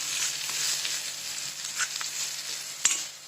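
Onion frying in a pan for masoor dal amti, a steady close sizzle with soft crackles and a sharper pop near the end, no talk.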